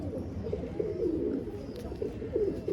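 A pigeon coos in low, rounded, repeated calls close by, steady over a soft background murmur.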